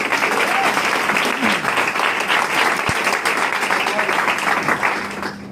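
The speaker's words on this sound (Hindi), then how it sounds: "एक बार ज्यादा तालियां मुकेश पाल जी के लिए।" Audience applause for Mukesh Pal at a business opportunity program, a loud, even, continuous burst of many hands clapping, with a faint voice briefly audible.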